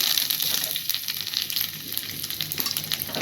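Urad dal and cumin seeds sizzle in hot oil for a South Indian tempering, a steady close crackle and hiss with bright spitting pops throughout, no voices over it.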